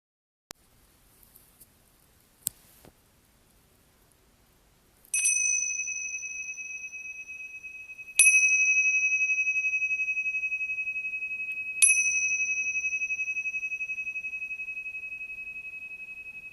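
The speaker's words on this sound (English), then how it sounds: "We'll start and end the practice with a bell." A meditation bell rings three times at a slow, even pace to open a practice, each clear metallic strike hanging in a long, slowly fading sustain after a few faint taps and clicks.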